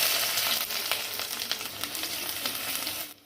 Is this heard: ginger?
yes